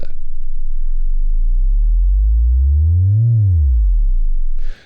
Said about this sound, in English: where you have a big sine wave that just descends, you can do that with your Therevox ET-5